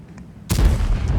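A single heavy T110E5 tank cannon blast in World of Tanks booms suddenly after a quiet moment, followed by a rumbling, noisy tail.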